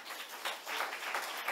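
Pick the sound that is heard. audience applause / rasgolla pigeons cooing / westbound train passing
audience applause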